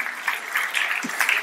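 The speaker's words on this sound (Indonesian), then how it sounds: "Beri tepuk tangan bagi Tuhan, saudara." Applause from a church congregation during a sermon, a steady wash of clapping that rises and falls briefly over about a second and a half, moderately loud and fairly close.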